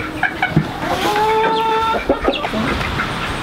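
Icelandic chickens cluck and squawk in a coop, a dense overlapping chorus of short calls and a few longer drawn-out notes, close and fairly loud, with no talking.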